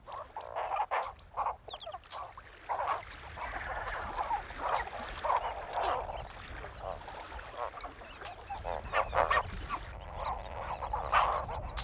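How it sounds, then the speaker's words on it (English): A flock of greater and lesser flamingos calls at the Ngorongoro crater lake in Tanzania, with repeated honking, goose-like cries overlapping in an irregular chorus at moderate distance. "the ideal habitat for two of the crater's most characteristic birds, the greater flamingo and the lesser flamingo"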